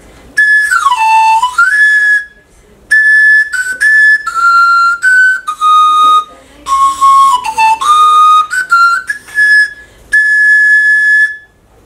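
A shrill replica Anglo-Saxon pipe plays a loud, breathy melody with sliding and held notes, phrases separated by brief pauses, close and alone.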